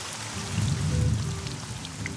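Steady rainfall patters continuously on a surface, an even hiss of drops with a soft low rumble underneath and no voices.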